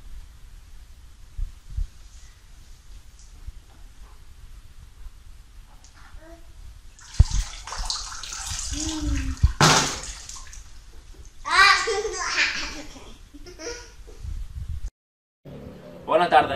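Splashing water in a bucket at a municipal swimming pool as someone wearing goggles tries to bite an apple, with bursts of sloshing and bubbling amid excited children's voices and speech.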